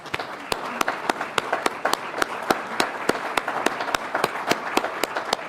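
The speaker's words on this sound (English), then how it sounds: "So if you'd all stand just for a moment so we could give you a round of applause." An audience at an awards gathering claps in a steady, evenly spaced rhythm, sharp claps repeating over a constant wash of crowd noise.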